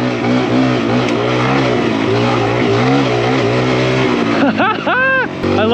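A Kawasaki KLX140RF dirt bike engine while riding at a racing and riding park, a loud close buzzing motor with wavering revs, then sharp rising and falling throttle blips near the end, with a voice talking over it.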